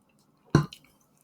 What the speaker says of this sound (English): I'm going to take a sip of water.